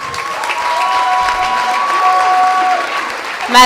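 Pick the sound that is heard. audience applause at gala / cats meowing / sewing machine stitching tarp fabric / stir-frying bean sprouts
audience applause at gala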